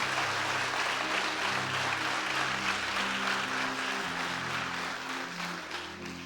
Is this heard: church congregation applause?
yes